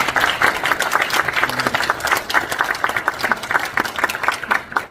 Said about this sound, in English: Please let's give a big applause, please.